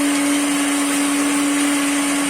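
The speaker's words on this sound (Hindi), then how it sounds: "उनको हरी मिर्चें ब्लेंडर में डालकर आप उनको ब्लेंड कर लें अच्छे से" An electric blender whirs loudly and steadily while blending frozen tomatoes and green chillies into a paste for sabzi pulao, a constant high-pitched motor drone with no voices.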